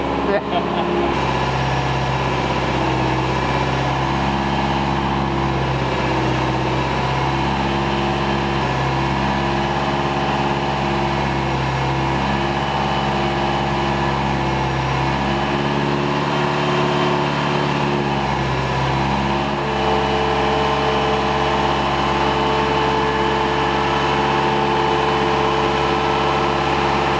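A tuned 600hp Subaru EJ257 engine idles steadily right after startup, a loud, continuous rumble that holds even throughout, with people talking faintly nearby.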